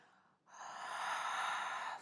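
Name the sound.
Ujjayi breath exhaled through open mouth, fogging glass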